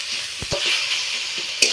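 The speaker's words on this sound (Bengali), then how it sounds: "পেঁয়াজ আর রসুনটা ভালো করে ভেজে নিয়েছি।" Chopped onion, green chilli, ginger and garlic hiss and sizzle steadily in hot oil in a pan, with a few sharp scrapes and knocks of a spatula stirring them, close and continuous.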